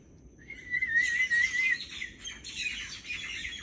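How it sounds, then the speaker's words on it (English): Myna birds in the trees after sunset call with a bright rising whistle followed by dense overlapping chattering and squawking from a flock, fairly close and continuous, with no talking. "when the Myna Birds come up and sit in the trees"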